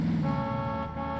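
A boat horn honking in a video game: one long, steady, buzzy horn blast that holds its pitch and fades slightly toward the end, heard alone.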